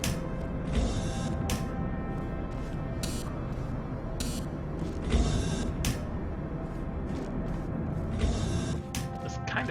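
A creaking elevator mechanism in the video game Portal Stories: Mel, grinding and groaning steadily with sharp bursts of hissing and clanks over a dense mechanical rumble, no talking.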